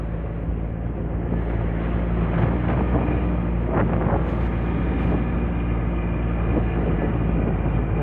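Wind buffets a microphone outdoors in Israel, a steady, heavy low rumble and roar that fills the whole stretch without letup, loud and close, with no talk over it.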